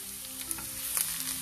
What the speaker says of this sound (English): we'll add this chili and garlic into this. Now saute this till it becomes brown in color